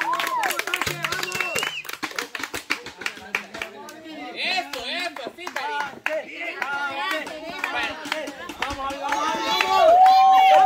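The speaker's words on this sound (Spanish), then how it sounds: "Démosle un fuerte aplauso." Clapping and cheering from a crowd along a pageant runway, scattered and uneven rather than a full ovation, mixed with loud shouts, music and an announcer's voice talking throughout.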